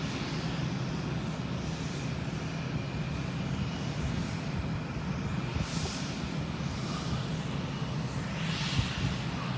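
An airplane roars steadily on takeoff at an airport, heard from the top of Terminal 2 as a loud continuous engine rumble and hiss that fills the whole stretch, with no speech.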